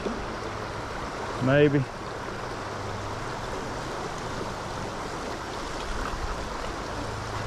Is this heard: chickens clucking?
no